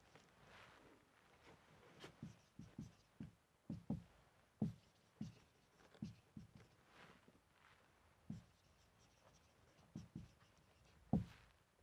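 Handwriting during a classroom lesson, faint scratchy strokes and soft taps in short irregular bursts, quiet and close against a low room hum.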